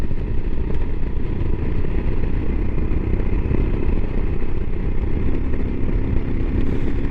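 A Royal Enfield Himalayan motorcycle engine pulls hard up a hill at about 4,500 rpm, a constant dense roar mixed with wind rush, close and unbroken throughout.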